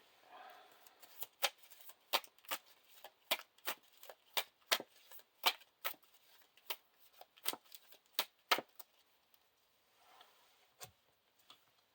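Playing cards from a card game are shuffled back into a deck, giving a run of sharp, close, evenly spaced snaps and riffles that thin out toward the end.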